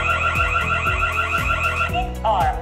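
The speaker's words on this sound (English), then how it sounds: "Burglar alarm." A HY-W20-S security kit's burglar alarm sounds, a loud electronic siren repeating in quick pulsed cycles with a shifting, warbling tone near the end.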